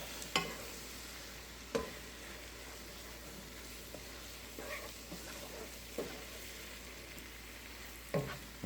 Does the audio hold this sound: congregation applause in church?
no